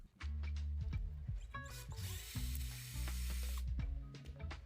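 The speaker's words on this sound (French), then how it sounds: "percer un trou pour la vis" Power drill boring a screw hole for a mounted appliance plug, several short bursts of whirring with spin-ups and stops, close and loud, no talk.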